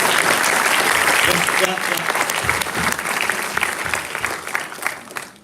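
Lively applause from an audience at a Google Cloud community day event in Nagpur, dense clapping that gradually thins toward the end with a brief voice heard over it.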